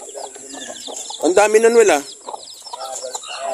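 Chickens cluck close by among penned chicks, with a burst of hen squawking in the middle and soft peeping around it, while someone speaks briefly over the birds.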